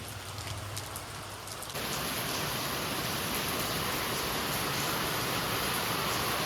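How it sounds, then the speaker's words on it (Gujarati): Steady rain pours down in a village, a dense constant hiss that grows fuller and louder after the first couple of seconds and continues without any voices. "જાય ને આવે છે વરસાદ."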